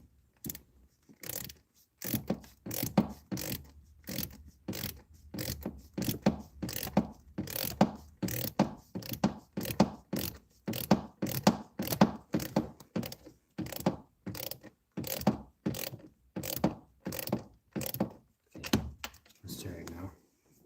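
A ratchet tightens bolts during top-end reassembly of a 1996–2005 Chevy Astro AWD with a GM 4.3L V6, giving close, rapid clicking bursts repeated in a steady rhythm over about twenty seconds.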